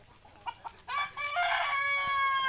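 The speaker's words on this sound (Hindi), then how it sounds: "ये टोटल 120 मुर्गा मुर्गी है, 60 मुर्गी और 60 मुर्गा।" Sonali desi chickens on a poultry farm holding 60 hens and 60 roosters: a few soft clucks lead into a loud, sustained rooster crow close by, with no talking.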